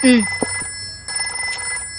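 A telephone bell rings loudly in a home at mealtime, a bright repeating electronic trill in two bursts with a short gap, while voices speak over it.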